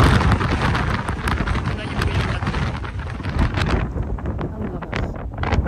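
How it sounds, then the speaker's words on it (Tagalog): Strong wind roars across an open natural park with grassy ground, a loud, constant blustery rush buffeting the microphone while a person talks over it. "lakas ng hangin"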